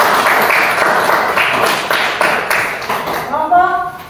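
Classroom applause as seated students clap together in a short burst of dense, mid-loud clatter, fading out as a voice begins talking at the end.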